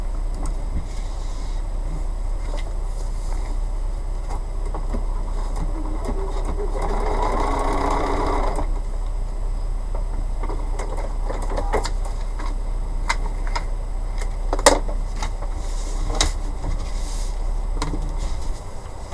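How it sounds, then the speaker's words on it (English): A sewing machine stitches directly onto fabric while making a bumblebee craft, a steady mechanical whir running under the whole stretch with a louder burst partway through. "and then you're going to sew directly on it."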